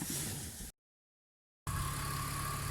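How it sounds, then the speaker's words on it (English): A BMW E46 engine idles steadily after fresh oil and new spark plugs, a smooth low hum heard close up, broken by a brief dropout of silence midway. "like you can hear, the engine runs more smoother"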